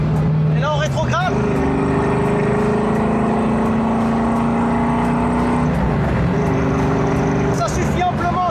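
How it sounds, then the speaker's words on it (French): A car on a narrow country road at sunset, its engine droning loudly and steadily before rising revving bursts as it shifts down, with a spoken voice over the motor. "Et là on rétrograde."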